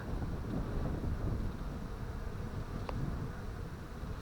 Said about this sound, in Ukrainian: Бджілки літають, сидять